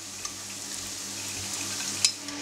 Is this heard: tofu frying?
yes